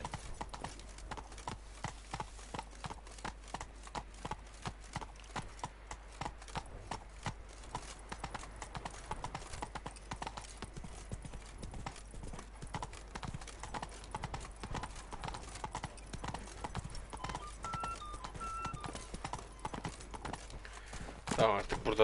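Roach, Geralt's horse in the video game Witcher 3, trots with rapid, steady clip-clop hoofbeats throughout, while someone talks over the sound.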